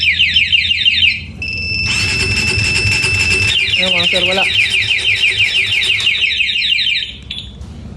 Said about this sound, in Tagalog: So safe na safe yung motor natin mga sir pagka meron tayong two-way alarm system.